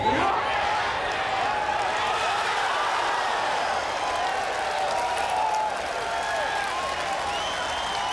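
Crowd at a rain-soaked PGA golf tournament at Atlanta Country Club applauding the winner, Corey Pavin: steady, dense clapping and cheering that holds loud and continuous throughout, with an announcer's voice over it.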